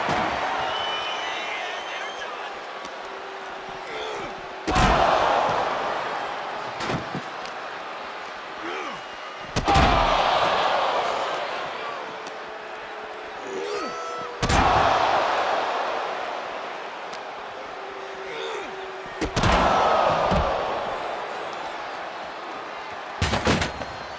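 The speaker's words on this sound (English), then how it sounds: "What a sick thud from that table." A wrestler crashes onto a table in the WWE 2K24 video game. Sharp slams and impacts hit at roughly five-second intervals over loud, swelling arena crowd noise.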